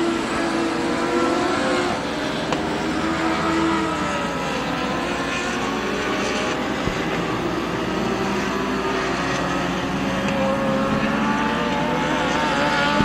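A pack of race cars roars around the oval at Merrittville Speedway, a steady, dense engine drone that holds loud and continuous from start to finish with no talking.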